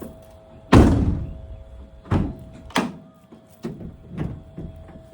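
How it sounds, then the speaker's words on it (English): A car's rear door, not yet fitted with sound deadening, slams shut with one loud, close, hollow thunk, followed by several softer thumps and knocks at uneven intervals. "I'm going to close it and see if I can get the noise that it makes."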